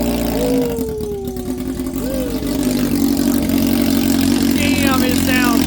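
Suzuki Hayabusa drag bike with flashed ECU, cams and a Brock's alien head exhaust runs at a steady, rumbling idle, close and loud throughout, with voices talking over it.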